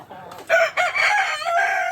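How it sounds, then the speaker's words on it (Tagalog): A rooster crows nearby, a strained, rising cock-a-doodle-doo lasting over a second, with a faint cluck before it. "Nanunuka tong manok na to."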